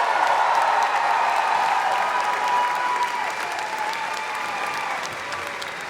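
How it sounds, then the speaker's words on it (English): Loud, sustained crowd applause at a Bernie Sanders political rally in Charleston, South Carolina, a large audience clapping in a thick continuous roar that slowly tapers off. "Give her a warm round of applause, ladies and gentlemen."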